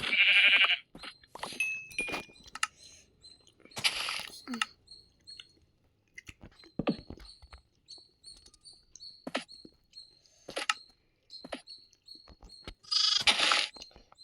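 A young goat bleats in short, high cries scattered through a quiet space, with rustling and handling noises between them.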